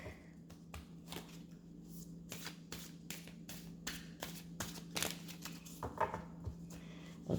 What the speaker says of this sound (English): just shuffle the deck once more